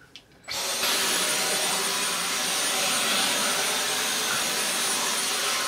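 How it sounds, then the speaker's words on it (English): A vacuum cleaner switches on after a brief moment and roars steadily, loud and close, with a broad, whooshing whine that holds without a break until the end. "Why don't you vacuum here? I'm gonna vacuum you too."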